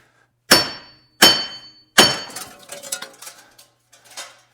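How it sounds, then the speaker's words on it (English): A 4-pound hammer strikes a Jeep Grand Cherokee wheel bearing, three sharp metallic blows about a second apart, followed by lighter clinking and rattling of metal parts, close and loud. "Sometimes if you take your 4-pound hammer"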